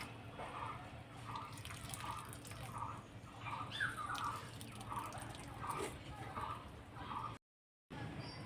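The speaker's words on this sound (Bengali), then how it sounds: "তো কপিটা আমি ভালো করে এইভাবে জলটা চেপে চেপে বার করে দেব" Water is squeezed out of shredded cabbage by hand, giving faint, evenly spaced wet squishes and dribbles close by, with a brief dropout near the end.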